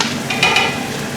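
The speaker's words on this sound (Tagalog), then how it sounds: "So guys, ngayon lagay na natin yung ating garlic." Garlic hits a hot pan with pork and sizzles loudly and steadily, with a few brief stirring scrapes, close up and alone, for ampalaya with pork.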